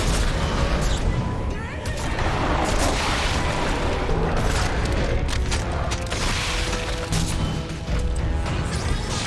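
Heavy weapon fire in the sci-fi horror game Dead Space 2, a dense, loud barrage of booming blasts and crashing impacts that runs continuously for the whole stretch with no breaks.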